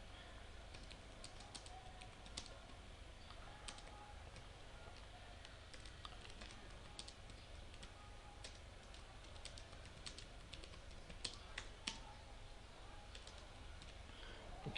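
Steady computer keyboard typing while text is entered on a website page builder, a continuous patter of small clicks at a moderate, unhurried pace, faint and close with no talking.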